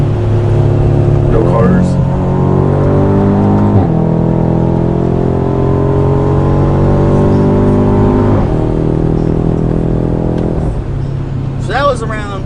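A 2019 BMW F90 M5 fitted with a custom exhaust accelerates hard through several gears, each loud rising roar cut off by a shift. People talk over the engine now and then.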